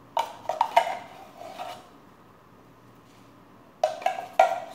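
Fruity jelly ingredients mixed in a bowl with a utensil: a few quick clinking scrapes and taps against the bowl, then a quiet pause, then another short burst of clinks, close and clear.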